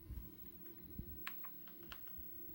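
Fingers tap on a gaming keyboard connected to a PS2 Slim, a scattering of light clicky keystrokes, irregular and fairly faint over a low background hum.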